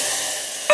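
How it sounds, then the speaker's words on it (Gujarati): A tempering of asafoetida and curry leaves in hot oil is poured into water, producing a loud, steady hiss that ends in a sudden sharp sizzling burst. "હવે આપણે આવી રીતનું પાણી વઘાર નાખવાનું"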